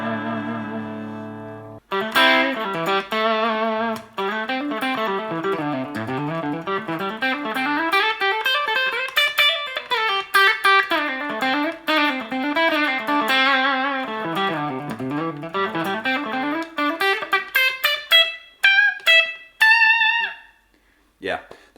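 Electric tones from an Enya Inspire carbon fibre guitar run through its built-in preset effects, a steady run of picked notes with distortion and chorus shimmer, close and loud, fading into sparse ringing notes at the end.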